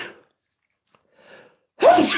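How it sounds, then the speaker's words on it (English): A single loud, close sneeze bursts out near the end, preceded by a quiet intake of breath after a short silence. "I'm going to sneeze again"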